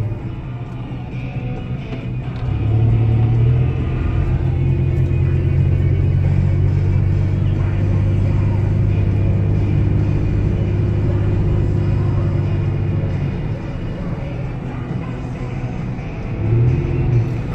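Chevy S10 pickup truck cruising a quiet country road with sweeping curves, a steady low engine and road rumble that swells as it picks up speed midway and holds, with no talking.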